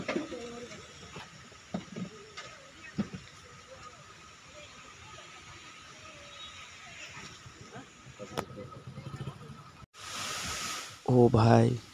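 Gundicha Ghagi waterfall heard from a distance as a steady, soft rushing wash that lasts the whole time, with faint bird coos, brief crackles and a louder burst of noise near the end.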